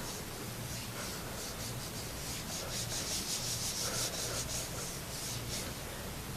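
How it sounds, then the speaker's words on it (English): Scrap paper is rubbed steadily by hand over an inked Gelli plate to pull a ghost print, a continuous close, soft scratchy friction with no talking. "So I lay it on there, I rub."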